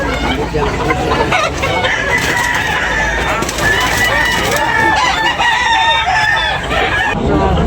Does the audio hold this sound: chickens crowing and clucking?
yes